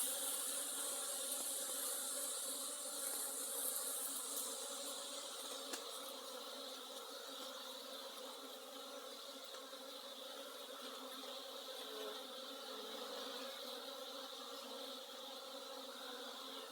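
Saskatraz honey bees on a January cleansing flight at the hive, a steady dense buzzing hum of many bees that carries on unbroken at moderate level, with no talk.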